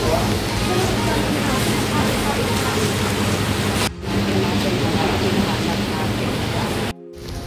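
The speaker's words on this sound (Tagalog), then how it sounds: "Umuulan." Steady rain falls outdoors near a fish vendors' area, a dense, loud hiss of drops on surfaces filling the whole stretch, broken by two brief cuts.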